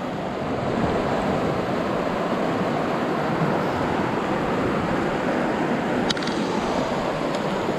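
Cold river rushing at Sonamarg in Kashmir, a steady broadband roar of flowing water close by with no letup, and a faint brief clink near the end.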